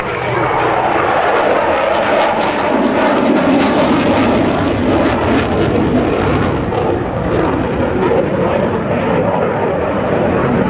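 US Navy Tailhook Legacy Flight aircraft roar past a crowd at the 2009 Joint Services Open House. The loud engine noise swells and holds steady throughout, with voices faintly underneath.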